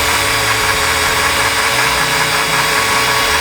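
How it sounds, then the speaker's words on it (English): A power drill spins an engine's oil pump through a drive tool, giving a loud, steady mechanical whir with a continuous broadband roar that holds for the whole stretch. "you can buy a tool which goes down and spins the pump with a drill"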